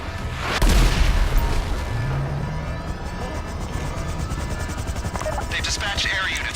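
A police helicopter arrives during a heist raid on Humane Labs in a video game: a sharp boom, then a steady, loud, pulsing rotor drone with scattered distant gunfire and crackle over it.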